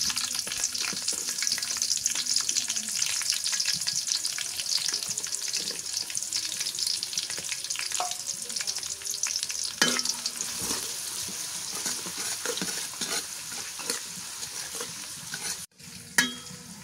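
Onions fry with cinnamon, cloves and small cardamom pods in a pan on a clay stove, a steady close sizzle running throughout with occasional scrapes and stirs, and a sharp knock near the end.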